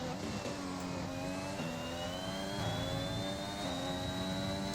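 Red Bull Formula 1 car lapping the Bahrain circuit in the F1 2021 video game, its high-pitched engine whining steadily and climbing through the revs, loud and continuous.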